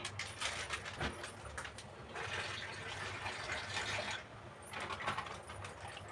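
A little water splashes into milk in a pot on the stove, a faint, soft pouring and gushing that comes and goes over several seconds at low volume.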